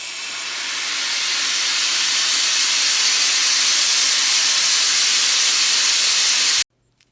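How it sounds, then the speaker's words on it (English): Compressed air hisses steadily and loudly out of an air compressor tank through an opened drain valve, a broad continuous rush lasting several seconds before cutting off abruptly into silence. "I'm open this valve and drain all the air out of the tank so I can remove this valve system."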